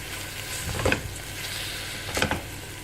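Minced meat with paprika sizzling steadily in a pan, with two brief scraping stirs breaking through the continuous frying hiss.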